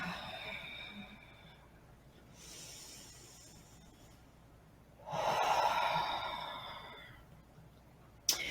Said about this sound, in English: Nice couple breaths.